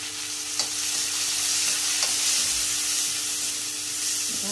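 Onions fry in a pan while being stirred, a steady close sizzle with a few sharp scraping clicks of the spoon, no voices.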